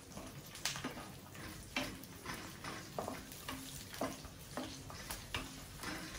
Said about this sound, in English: Ensure that you mix the mixture in the ghee and oil